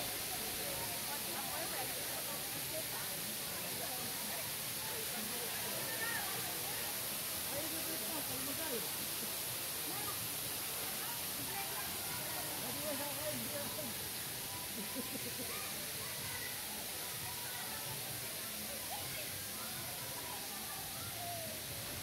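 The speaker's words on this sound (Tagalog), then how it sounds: "habang tumatayo tayo dyan sa gilid, sa mga bumabagsak na tubig, parang minamasahe na yung likuran natin" Water pours steadily down a resort spring's waterfall, a dense, unbroken hiss and rush that stays even and close throughout the clip with no breaks.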